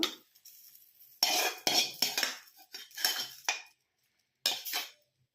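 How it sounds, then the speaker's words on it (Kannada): Dry-roasted red chillies, coriander and other fried chutney ingredients are tipped into a steel mixer jar, giving a few bursts of clinking, scraping pot-and-utensil noise separated by brief pauses, close and fairly loud. "ನೋಡಿರಿ ಇದು ಮಿಕ್ಸಿ ಜಾರಿಗೆ ಬಿಡೋಣ"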